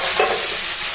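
Chopped carrot, onion and potato fry in a pan for vegetable Maggi noodles, giving a short, steady sizzle with a faint stirring scrape.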